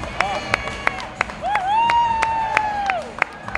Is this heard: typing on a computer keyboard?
no